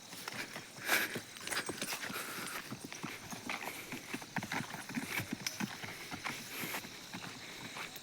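A calf's hooves patter quickly over ground on a farm as it runs toward its mother cow, a light, irregular clatter of steps at moderate distance, fairly faint against quiet outdoor background.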